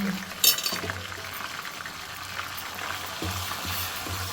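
Fresh ginger garlic paste fries in oil for a gongura boti pickle, a steady close sizzle with a sharp clatter near the start and a few soft bubbling pops throughout.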